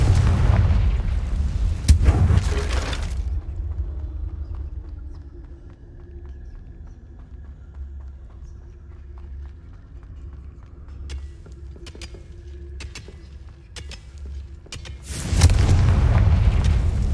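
Explosions from the Confringo fire spell in the video game Hogwarts Legacy, loud booming blasts at the start and again near the end, separated by a long quiet stretch with faint clicks and ambient hum.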